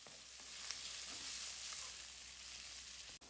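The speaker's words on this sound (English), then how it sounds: "Fry up our garlic as well as our chili peppers." Garlic and chili peppers fry in a pan for seafood fried rice, a steady close hiss and crackle that holds evenly, with a brief knock just before the end.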